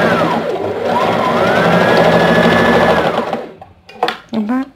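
A sewing machine runs steadily for about three seconds, stitching through folded churidar lining fabric. It is loud and close, and then a voice speaks after the motor stops.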